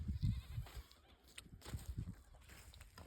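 Goats in a farm field bleating close by, several short nasal calls in quick succession with a rustle of movement between them.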